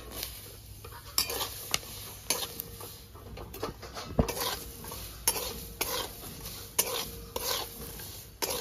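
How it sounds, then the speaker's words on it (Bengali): Garlic and green chilli fry in a pan for peanut chutney, with a steady sizzle under repeated sharp scrapes and taps of a utensil stirring against the pan; no talking. "রসুনটা ভাজা হয়ে গেছে"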